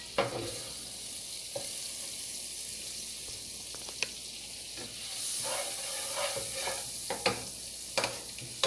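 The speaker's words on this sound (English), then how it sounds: "put about 2 tablespoons of the vegan butter in the skillet" Vegan butter sizzling in a hot skillet, giving a steady low hiss with scattered crackles and a few spatula taps, close and moderately quiet, with nobody talking.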